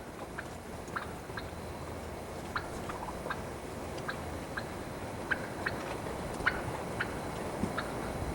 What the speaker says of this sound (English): That is a big magnum turkey.